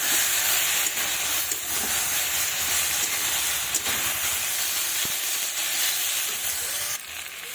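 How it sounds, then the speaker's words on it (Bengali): Ground chilli, cumin and ginger pastes sautéed with spinach and small fish in a pan, giving a steady loud sizzle and hiss with faint stirring scrapes throughout. "আমার লঙ্কা বাটা, জিরে বাটা, আদা বাটা এর মধ্যে দিয়ে দিলাম। এবার ভালোভাবে নেড়ে কষিয়ে নেব।"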